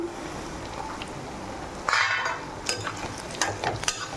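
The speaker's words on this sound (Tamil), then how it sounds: "இப்போ அடுத்தது ஒரு முருங்கைக்காயை போட்டுக்கலாம்" Eggplant and drumstick pieces sautéing in a pan for prawn curry, a low steady sizzle broken by a louder hiss and several scraping stirs near the end.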